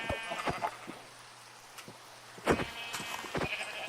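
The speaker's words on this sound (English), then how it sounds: "Oh, sheep. We need sheep. We need wool." Sheep in a video game bleat twice, a short wavering cry near the start and a louder one a couple of seconds later, fairly close over quiet background rustle.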